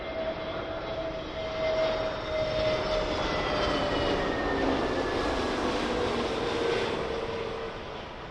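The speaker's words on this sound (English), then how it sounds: "It's another British Airways aircraft." An Airbus A320neo arriving at London Heathrow's runway 27L gives a steady, fairly distant jet roar with a whining engine tone, rising slightly and then easing off.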